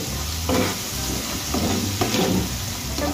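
Tomatoes frying in a pan for a Bengali tomato dal, a loud, close, continuous sizzle with a few stirring strokes swelling through it.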